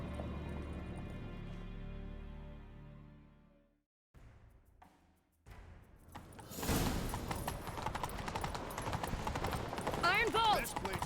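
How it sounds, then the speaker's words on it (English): Horses gallop at speed with rapid rhythmic clip-clop of hooves, loud and close, after a brief quiet break, and the sound builds as the chase continues; music plays beforehand. "Grab a horse, we'll chase him down."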